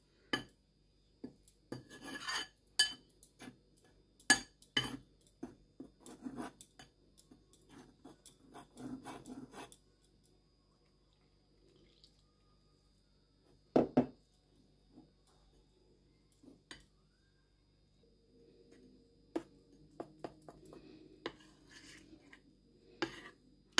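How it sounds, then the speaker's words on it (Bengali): Dried fish paste ingredients mixed with cold water in a bowl: quiet, irregular rubbing and scraping strokes in short clusters, separated by near-silent pauses. "সবগুলো উপকরণ মিশাই নিব"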